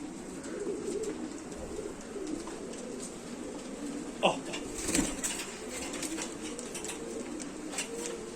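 A Sialkoti pigeon coos in low, repeated throaty rolls, moderately close, with a brief flutter of wings and a faint steady background hum.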